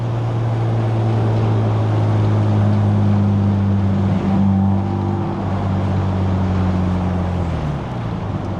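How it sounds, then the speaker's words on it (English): A Mazda RX-7 rotary engine revs high, holding a steady droning pitch for several seconds, then eases off, loud and close with strong road and wind noise. "I think that's the highest I've revved it out in that gear so far."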